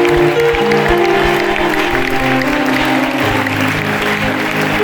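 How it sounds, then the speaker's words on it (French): A church congregation claps loudly and steadily together during a sermon service, with a tonal musical drone running beneath the applause. "nous acclamons très fort le Seigneur"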